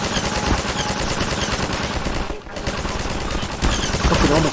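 Rapid, dense gunfire aimed at the player in the game Half-Life 2, continuous bursts of shots close and loud with a brief lull midway before the firing resumes.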